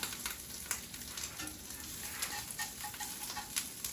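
Crab cakes browning in a pan give off a steady, fairly quiet sizzle with a few faint clicks and bumps of a utensil. No one speaks.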